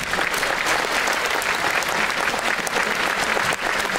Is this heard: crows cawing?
no